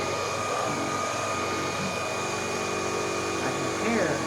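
A vacuum cleaner runs steadily as a continuous broadband whir with faint steady tones, with brief voices and bumps rising briefly near the end.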